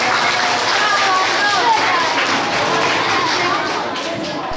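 An audience of children claps in a steady, dense patter of applause that fills the room, with voices mixed in underneath.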